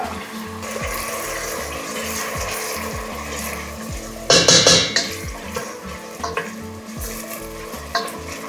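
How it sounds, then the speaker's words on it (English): Onions sizzling and frying in a pot for Nigerian jollof rice, a steady hiss throughout with a burst of spoon stirring and scraping against the pot in the middle, close and without talk. "You're gonna wait for your onions to brown, golden brown, before you put in your tomato paste"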